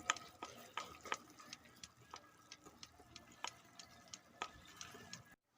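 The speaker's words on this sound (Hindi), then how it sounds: "कोको पाउडर और अच्छी तरह मिक्स करेंगे।" Cocoa powder is mixed into homemade cake batter, giving faint, quiet scrapes and soft ticking taps of a utensil against the bowl in an irregular rhythm that stops abruptly at the end.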